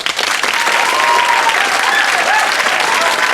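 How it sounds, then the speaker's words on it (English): A television quiz show's studio audience applauds a new contestant, a dense burst of loud clapping that starts at once and carries on evenly for several seconds. "So another big round of applause, please, this time for Sabui Mirza."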